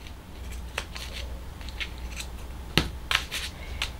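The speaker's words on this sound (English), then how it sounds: "just take the end of your scissors and start snipping" Scissor tips snipping through fabric while sewing a baby item, a scattering of short, crisp cuts at close range, irregularly spaced, alone in a quiet room.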